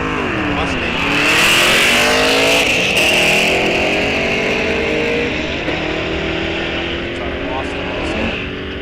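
At a drag strip, a 1973 Dodge Dart Swinger and a Mustang roar loudly off the line and away. The sound fades into distant engine drone while a track announcer talks over the action.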